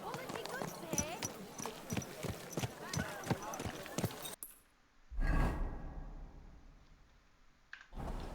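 Rapid, rhythmic clip-clop of horse hooves trots past in the video game Kingdom Come: Deliverance II, then a swoosh and quieter ambience follow, with a sharp sound at the end.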